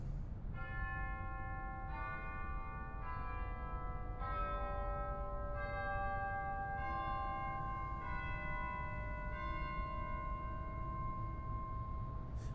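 Chimes stop on a Letourneau pipe organ in an Episcopal church, sounding a slow descending series of clear, bell-like tones, each ringing on and overlapping the next, alone over a low steady hum.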